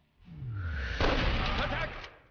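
A steel hand grenade goes off in the World War II shooter Enemy Front, a broad burst that swells and rolls on for about a second and a half before fading, with a low whoosh building just ahead of it.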